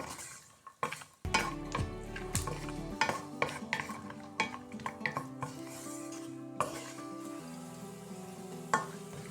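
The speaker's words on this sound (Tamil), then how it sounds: "ஐம்பது கிராம் புளம் ரெண்டையும் இந்த நெய்யில் வறுத்தெடுப்போம்" Cashews and raisins frying in ghee for rava kesari, a close sizzle under busy spoon stirring with frequent metallic scrapes and clanks against the pan, no voices.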